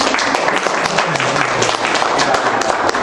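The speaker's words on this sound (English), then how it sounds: "Can we all have a round of applause for Zax?" A convention panel audience gives a round of applause, broad continuous clapping from many people in a hall, loud and sustained throughout.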